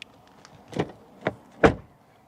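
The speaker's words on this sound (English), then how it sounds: "Door closing sound. It is very nice." Doors on a VW Tiguan R-Line are shut one after another, giving three solid thumps of rising strength, the last the heaviest, recorded close with little else around.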